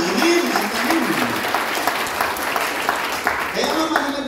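A church congregation applauds loudly for the Lord, a continuous roar of clapping that blends with a preacher's speaking voice near the start and end.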